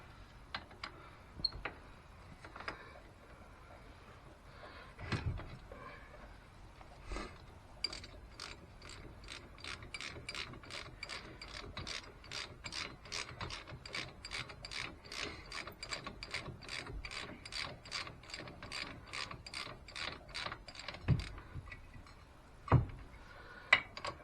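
A ratchet snugs the caliper bracket bolts on a Can-Am Maverick, with long runs of quick, even clicks broken by a few knocks, fairly faint and close.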